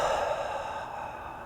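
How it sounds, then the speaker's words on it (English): One slow, deep breath drawn and let out close to the microphone, a soft airy whoosh that fades over about a second and a half with no other sound. "Take a really deep breath"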